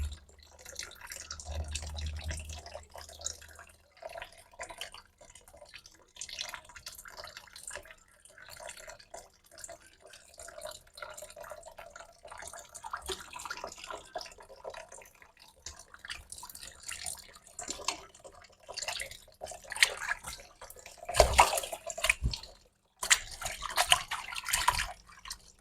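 Tap water runs and drips intermittently in a kitchen sink while raw fish is rinsed clean, with splashes and trickles rising and falling over about twenty-five seconds and louder bursts near the end.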